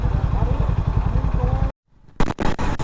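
A new Hero Xpulse 200T 4V motorcycle rides along the Delhi road, its engine pulsing steadily up close, then dropping out abruptly before returning in rough, windy bursts.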